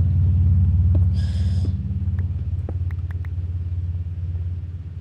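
A car passes outside a room, heard as a loud low rumble that swells at first and then settles into a steady drone. A brief tonal chirp comes near the start, with faint clicks later.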